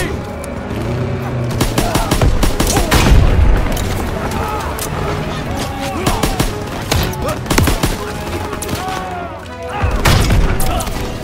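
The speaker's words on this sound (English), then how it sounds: "Tossing out a grenade!" Dense Call of Duty WWII combat: a heavy grenade blast among continuous rifle and machine-gun fire, loud and close, with shouted voices mixed into the din and another boom near the end.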